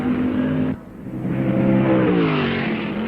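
Racing cars from 1965 roar around the Brands Hatch circuit toward Clearways during the Guards International Trophy, a loud close engine drone with a sharp change as one passes, then rising revs and a steady multi-engine whine.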